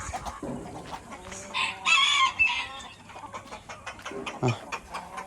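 A rooster crows loudly and close by, a long rising call, while hens cluck around it in a busy farmyard.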